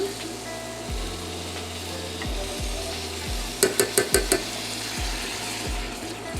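A spoon stirs coconut lentil curry in a pot with repeated low, rhythmic scraping strokes, then a quick run of five sharp taps against the pot. The sounds are close and moderately quiet.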